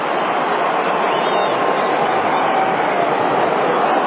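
A large AFL football crowd of tens of thousands roars steadily in a big stadium during a Collingwood versus Fremantle match, a sustained, even wash of cheering with no break.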